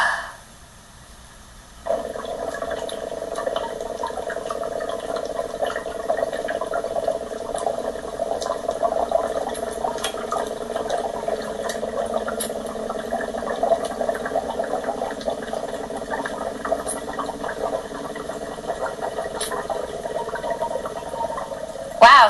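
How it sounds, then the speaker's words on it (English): Breath blown through a tube into an upturned water-filled bottle, pushing the water out as a sustained bubbling, gurgling rush that starts abruptly after a quiet moment and continues steadily, fairly close. "Look at all the air I filled the bottle with and all the water that I pushed out."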